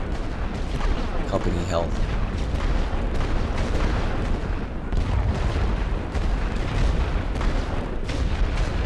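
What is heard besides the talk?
artillery bombarding an enemy trench, WW1 video game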